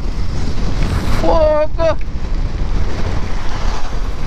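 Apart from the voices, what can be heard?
hurricane wind and rain blowing on the microphone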